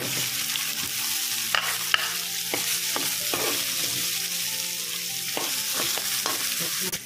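Chopped onion pieces sizzle and fry in hot oil with fenugreek seeds while being stirred for an okra and raw prawn curry, a continuous close sizzle broken by scraping stir strokes and no talking.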